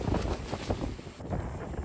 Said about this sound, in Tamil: செம்ம மழை வருது, செம்ம காற்று அடிக்குது.